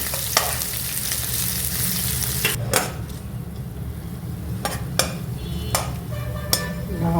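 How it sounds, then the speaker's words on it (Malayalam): Thinly sliced small onion sautéing in ghee in a pan for ghee rice, a steady sizzle broken by several sharp spoon scrapes and clinks against the pan, with no talking. "ഒരു ചെറിയ അനിയന് തിന്നായിട്ട് സ്ലൈസ് ചെയ്തത് ഇട്ട് ഒന്ന് വഴറ്റുക."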